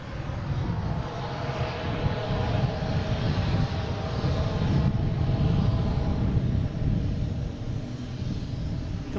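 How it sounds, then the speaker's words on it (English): Boutique Air Pilatus PC turboprop landing at Boston Logan, a steady, broad engine roar and rumble heard from outside at moderate distance, continuous throughout with a slight swell midway. "Boutique Air, a Pilatus PC."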